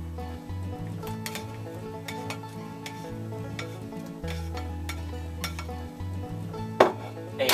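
A utensil stirs onions into potatoes in a stovetop pot for potato soup, with repeated clinks and scrapes against the pot over a low steady hum, close and moderately loud.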